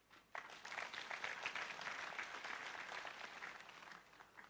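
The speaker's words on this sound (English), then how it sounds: "Please give her a clap." Quiet, distant clapping from mourners at an outdoor funeral gathering on a family farm. It begins suddenly and holds as a soft, steady patter for a few seconds, tapering slightly toward the end.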